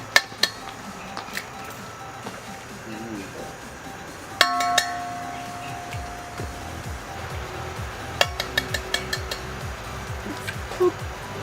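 Eggs cracked against the rim of a mixing bowl outdoors for Five Nights at Freddy's cupcake batter: a few sharp taps with brief glassy ringing, spaced apart over a low background hum.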